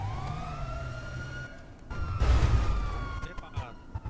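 A video game police car siren wails, sweeping up and down in pitch, with a burst of engine roar and rumble midway through.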